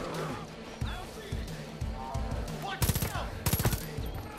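Gunfire in the video game Far Cry 5: several quick bursts of automatic shots, loud and sharp, mixed with other game sounds while a player talks excitedly over it.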